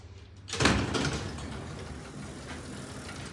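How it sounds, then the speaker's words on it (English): A ThyssenKrupp hotel elevator door with three-speed operation slides with a sudden rumbling start, then a steady mechanical whir that fades gradually, close and with no voices. "This one has a 3-speed door."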